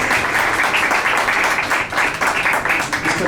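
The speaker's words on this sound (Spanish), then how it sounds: "los que quedamos, denle un fuerte aplauso" Audience applause fills a conference hall, a dense, steady wash of many hands clapping at close range that continues without a break for several seconds.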